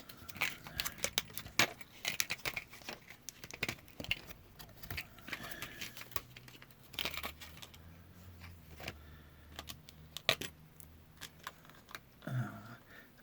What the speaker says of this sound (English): That's just the screws I took out of there.